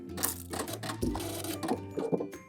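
A sewing machine back stitching lace panties gives a brief close run of quick mechanical stitching with shifting hum and clicks.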